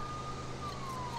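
A police car siren in the LEGO City Undercover video game, a thin wailing tone held faintly over a low engine hum for a brief moment.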